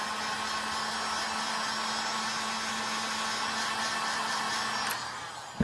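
A hot air blower set to about 500 degrees Fahrenheit heats a wire inside an iPad Air during a screen replacement, giving a steady, even whoosh with a low hum that runs throughout before a brief click near the end.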